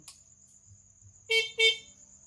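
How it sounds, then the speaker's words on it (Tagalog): An aftermarket loud horn on a Honda XRM110 motorcycle blasts two short, bright honks one after another, close by, above a steady high-pitched whine and faint low rumble. "Loud horn."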